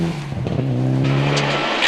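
A stretched Group N rally car on a stage, its engine note droning loud and close with rising revs and a brief tyre scrub.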